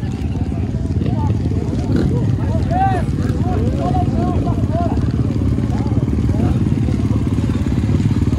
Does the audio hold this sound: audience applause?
no